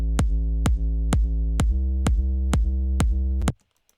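A bright, harsh musical mix with its high end left uncut by EQ plays a loud, evenly spaced run of about eight struck notes. The sound cuts off abruptly near the end, and no one speaks.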